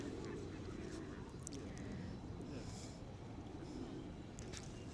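Geese or ducks honking outdoors in a scattered flock, intermittent calls at moderate distance over steady low background noise, with faint voices nearby.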